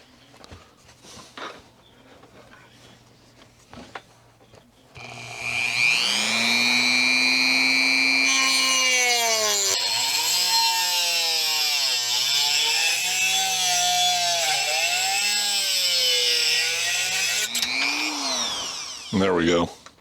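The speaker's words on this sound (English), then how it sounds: "since we've already got it hot, I'm sure, with that little cutoff wheel" Small cutoff wheel spinning up and slicing through drill rod to length, a loud whining grind that rises and wavers in pitch for about twelve seconds before winding down, with brief clatter before and after.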